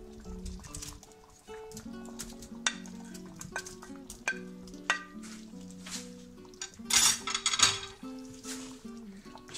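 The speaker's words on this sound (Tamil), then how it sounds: "சிக்கன் சேர்த்துட்டு நல்லா கலக்கி விடலாம்." A spoon scrapes and clinks against a pan as chicken is stirred into curry masala, with irregular metallic taps and a brief sizzle, while music plays faintly underneath.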